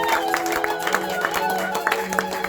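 A church congregation at a Sunday service applauds and calls out to welcome the preacher, a steady dense wash of clapping and crowd voices with sustained musical tones underneath.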